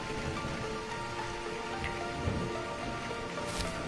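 Steady rain patters and hisses on surfaces, with a few louder drips standing out, continuous and moderately close.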